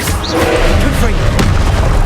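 A Confringo blasting spell goes off in Hogwarts Legacy, a dense booming burst with a sharp crack near the middle, set over a continuous rumbling game soundscape.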